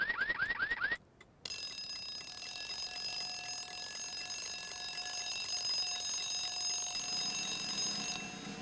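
Alarm clocks ring in a live TV studio during a Polish call-in puzzle programme on TVP1: a short pulsing burst of electronic beeps, a brief gap, then a long, loud, steady bright ringing that lasts several seconds before cutting off.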